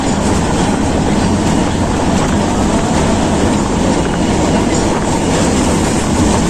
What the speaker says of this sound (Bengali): এখন ট্রেনে আছে দেখতেই পাচ্ছেন